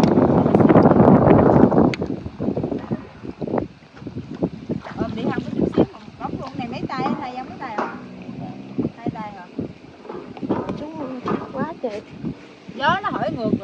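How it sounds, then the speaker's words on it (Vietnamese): Wind buffets the microphone on a small boat while fishing nets are checked on a river in the Mekong Delta, a heavy rush at first that eases into steady gusts under almost continuous talk. "gió nó thổi ngược mình khó thăm lưới lắm"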